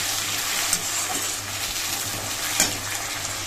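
Onion and tomato frying in oil with bay leaves give a steady close sizzle, with occasional scraping and stirring knocks from a pan.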